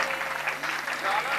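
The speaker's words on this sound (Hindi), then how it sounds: "जोरदार तालियां बजती रहना चाहिए।" Audience applause at the Naari Shakti award ceremony of a cultural society, a short dense burst of clapping heard fairly loud and close, with a faint voice mixed underneath.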